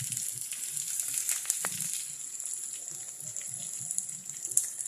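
Chopped onion goes into hot oil with garlic that has already browned, for a loitta fish dish. A steady moderate sizzle and bubbling follows, broken by a few sharp crackles.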